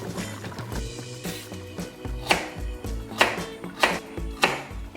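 Carrots being cut on a board for a French daube, a steady series of knife chops, about one every half second, close and clear with no talk.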